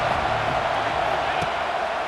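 Stadium crowd noise from the College Football 26 video game: a steady, dense roar of many voices with faint cheering, running continuously under a commentator's voice.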